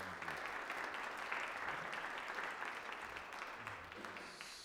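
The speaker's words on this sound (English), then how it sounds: "Let's give them one more round of applause." A room full of people applauding at a university teacher education seminar, steady dense clapping that holds for several seconds before easing slightly.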